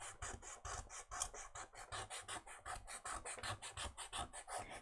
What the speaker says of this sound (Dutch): En zo schuur je hem eigenlijk schoon.